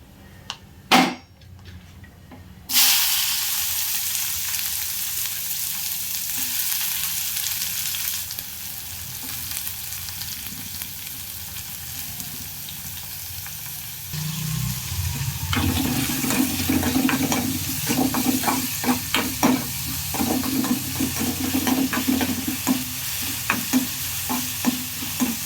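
Onions tipped into a hot kadai of oil already crackling with mustard seeds and dried chillies, a sudden burst into steady sizzling with stirring scrapes and clinks, close and continuous.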